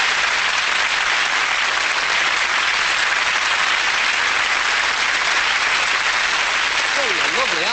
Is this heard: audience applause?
yes